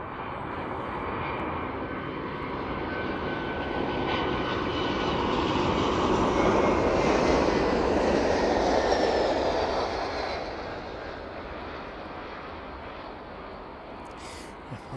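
An airliner landing at East Midlands Airport passes with a broad jet roar that swells to a peak midway and then fades, heard from a moderate distance with no talking.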